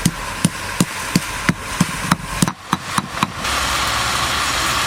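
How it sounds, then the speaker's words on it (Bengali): Green chillies, leafy greens and chopped ginger pounded in steady, evenly spaced thumps, about a dozen strikes, before a louder, continuous background noise takes over. "কাঁচা লঙ্কা, শাক, আদা কুচি একটু থেতো করে দিয়ে দেবো।"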